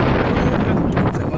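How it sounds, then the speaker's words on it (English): Steady wind buffets a microphone outdoors near a graveyard, a loud continuous rumbling roar with no pauses and no voices. "it's windy"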